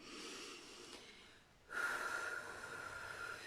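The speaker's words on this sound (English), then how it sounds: "take a couple of really big deep breaths" Slow, deep breathing close to the microphone, a long breathy exhale followed by a pause and then a louder, rushing intake of air, with no talking.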